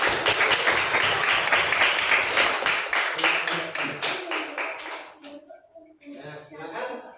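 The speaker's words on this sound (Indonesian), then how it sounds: "Beri tepuk tangan untuk kelompok." Students in a classroom clap for a group after its presentation, a burst of brisk clapping for about five seconds that thins out, followed by people talking.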